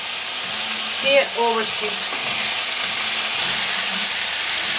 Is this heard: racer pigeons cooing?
no